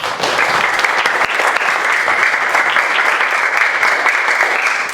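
A classroom of children claps loudly and steadily together for a few seconds, a dense close burst of applause that holds an even level throughout.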